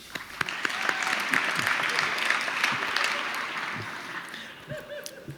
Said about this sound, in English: let's give them a round of applause for their service